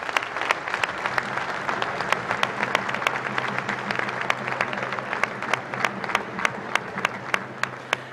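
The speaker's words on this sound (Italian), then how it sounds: "Un applauso a tutti." An outdoor crowd at a religious procession for the Saint gives scattered applause, with distinct individual claps standing out over a steady murmur for about eight seconds.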